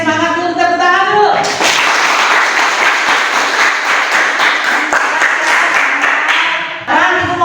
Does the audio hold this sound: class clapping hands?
yes